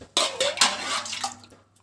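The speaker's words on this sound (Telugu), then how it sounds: "గ్లాస్కి 2 గ్లాసెస్ వాటర్ చొప్పున 4 గ్లాసెస్ వాటర్ వేయాలి" Water from a glass splashes and gurgles into a pot of rice being prepared for a clay-pot chicken biryani, a short, close, bubbly pour lasting about a second and a half.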